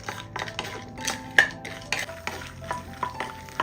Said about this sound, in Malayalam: ഈ നിലക്കടലയുടെ നിറമൊക്കെ ഒന്ന് മാറി ഒരു ഗോൾഡൻ കളർ ആവുന്നതുവരെ ഒന്ന് ഇളക്കി കൊടുക്കാം